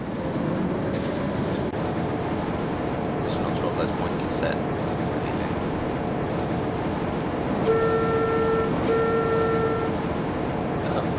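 A train rumbles past in the Trainz video game on a Scottish East Coast Main Line dock scene, with a steady rolling drone and two short horn toots late on, while someone talks over it throughout.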